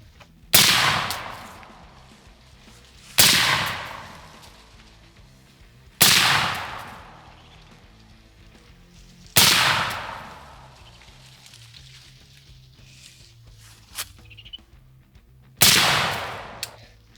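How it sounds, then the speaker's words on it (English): Six sharp rifle reports from a VKTR VK-1 short-barreled piston rifle firing 62 grain green tip rounds at an outdoor range, spaced a few seconds apart, each loud crack trailing off in a brief echo, with a faint tap between. "I'll probably just shoot 5 of these very expensive little buggers"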